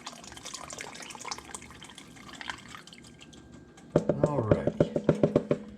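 Liquid trickles and splashes, then pours heavily into a Dutch oven holding chuck roast with a louder gurgling rush and bubbly pulses toward the end.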